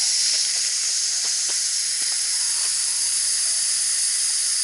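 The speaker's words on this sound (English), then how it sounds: "Let's see what happens when I release this pressure valve" Steam hisses loudly and steadily from a pressure cooker's released valve outdoors while cooking deer burger for chili, a continuous close, harsh roar with a few faint clicks underneath.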